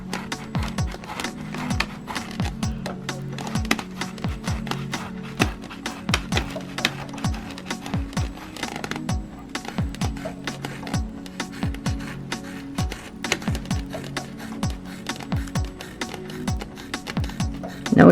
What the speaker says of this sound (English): I'm going to go ahead and cut the hair